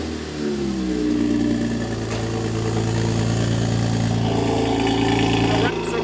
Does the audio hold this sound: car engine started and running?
yes